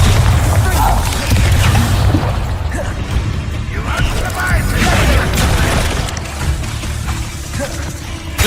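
Bombarda spell explosions from Hogwarts Legacy on PS4 Pro, loud booming blasts and crashing impacts repeating through the whole stretch amid dense game combat noise.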